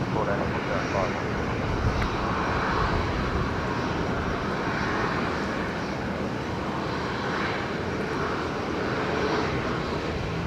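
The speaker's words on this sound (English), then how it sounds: "we got Velocity 119 taxiing out for a departure on runway 19" A jet airliner taxis out for departure at Brisbane Airport, its engines a steady, fairly distant broadband roar that holds level throughout with no talk over it.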